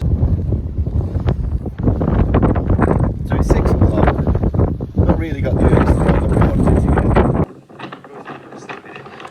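Heavy wind buffets the microphone with loud rumbling gusts while someone talks, then the roar abruptly drops away near the end.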